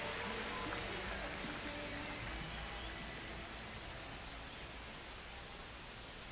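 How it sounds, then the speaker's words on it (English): Steady rain pours over a baseball stadium during an Angels vs Dodgers game, a constant broadband hiss that holds loud and even from start to finish, with no voices over it. "This rain is not letting up."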